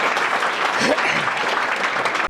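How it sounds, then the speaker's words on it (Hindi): Crowd at a college public event clapping loudly and continuously in a short burst, with a voice briefly heard over the applause. "एक बार जोरदार तालियां बजा दीजिए"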